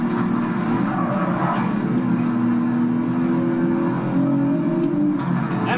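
A Nissan Z Proto race car driven in Project Cars 3: a steady engine drone with shifting pitch as it accelerates and changes gear, loud and continuous throughout.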